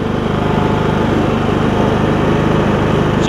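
A Troy Bilt Bronco lawn tractor engine runs steadily at close range, a loud continuous chugging drone with no talk.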